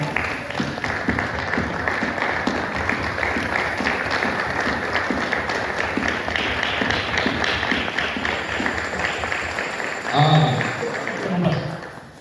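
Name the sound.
church congregation applauding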